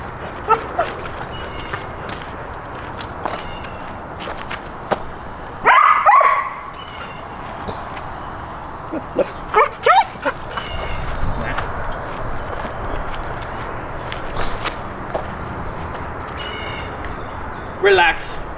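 A dog gives short barks and whimpers during an obedience training session, the yips popping out in brief bursts over a steady background of a trainer's voice giving commands.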